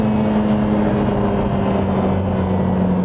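Lotus Emira 2.0 four-cylinder engine held at high revs, a steady loud droning engine note with a strong low hum running continuously throughout, no speech.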